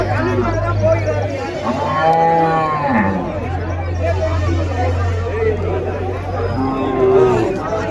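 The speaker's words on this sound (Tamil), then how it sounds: "அப்படியே மாடு பார்த்துக்கோங்க" Cattle mooing at a busy cattle market in Matrapalli, several long harmonic moos rising over a steady low crowd hubbub, with people chattering throughout.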